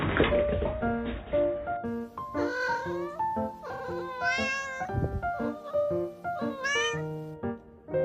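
A domestic cat meows repeatedly in a string of drawn-out, rising and falling calls, close and fairly loud, with short pauses between them.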